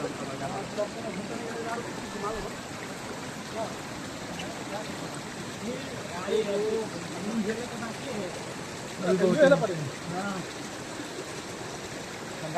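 Water rushes steadily at Kalitar waterfall in Sindhuli, a continuous moderate wash with occasional louder surges, as people talk over it.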